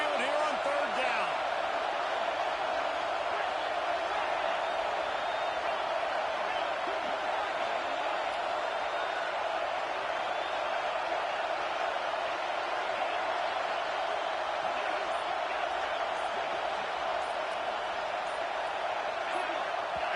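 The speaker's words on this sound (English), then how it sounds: "A veritable crimson tide of noise on Saban Field here on third down" A sustained, loud roar from the Alabama stadium crowd at Saban Field during a football game against FSU, rising on third down, a dense wall of cheering that holds steady for the full stretch.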